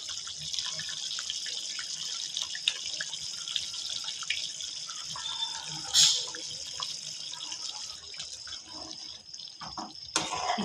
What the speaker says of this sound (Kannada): ಮಿಕ್ಸರ್ ತೊಳ್ಕೊಂಡಿರೋ ನೀರು ಹಾಕ್ತಾಯಿದ್ದೀನಿ.